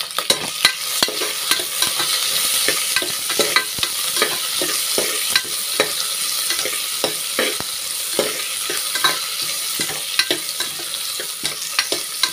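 Sliced large onion frying in a pan with spices for a rice dish, a loud, steady sizzle under rapid, repeated spatula scrapes and taps against the pan, quick and regular throughout.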